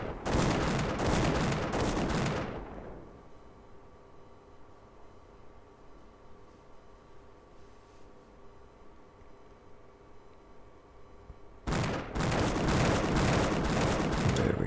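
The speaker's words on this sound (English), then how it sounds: "we're gonna autoplay the cannons." Cannon fire in a naval battle in the strategy game Imperialism: two loud, dense volleys of booming shots, one at the start and one near the end, separated by a long stretch of quiet hum.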